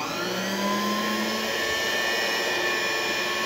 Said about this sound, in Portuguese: Vou ligar a batedeira